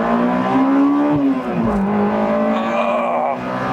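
Honda S2000 engine revving out toward its 9,000 RPM redline, a loud, rising high-pitched wail heard from inside the car that climbs, dips briefly at a shift and pulls again.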